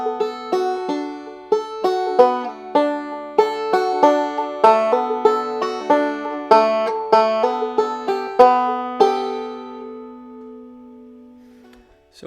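Banjo picked in two-finger thumb lead style with fretted notes and pinches, a brisk run of bright plucked notes with a steady rhythm, ending on a ringing note that fades out.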